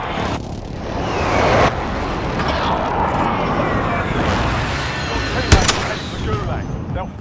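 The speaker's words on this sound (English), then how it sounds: "Be advised, friendly precision airstrike inbound" Friendly precision airstrike in Call of Duty Warzone, a rumbling barrage of blasts and gunfire with a sharp explosive crack near the end, voices talking over the battle.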